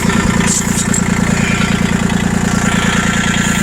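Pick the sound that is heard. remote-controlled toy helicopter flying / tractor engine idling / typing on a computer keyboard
tractor engine idling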